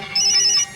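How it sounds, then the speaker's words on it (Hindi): A mobile phone ringtone sounds, a short bright electronic tone lasting about half a second, loud and close, with no voices. "pick up the phone"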